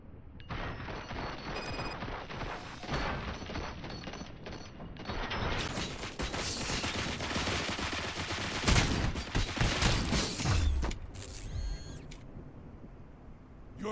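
Sustained volley of rapid gunfire in the RoboCop video game, a dense, loud barrage of shots and mechanical clatter running continuously for many seconds without speech.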